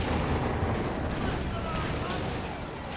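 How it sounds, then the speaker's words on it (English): Tank and anti-tank gun fire from a Panzer IV and an AT gun in the Company of Heroes 2 strategy game, heard as a dense continuous roar of battle with booming shots over a commentator's voice. "the Panzer IV rolls a miss on the AT gun"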